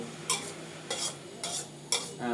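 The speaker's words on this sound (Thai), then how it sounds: "ผมขอผัดให้แห้งนิดนึง น้ำมันแห้งอีกนิดนึง" Khanom jeen rice noodles with minced pork stir-fried in a stainless steel pan, four rhythmic scraping strokes of the spatula about half a second apart, close and clear with no talk.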